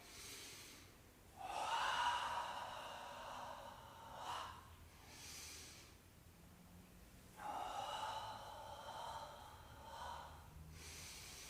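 Slow, deep breaths during a beginner qigong exercise for back pain, two long airy inhales or exhales several seconds apart, close and fairly soft with quiet pauses between them.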